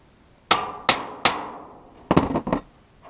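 A hammer strikes the floor groove of a travel trailer: three sharp metallic clangs evenly spaced, then a quick cluster of lighter taps, close and alone with ringing decay.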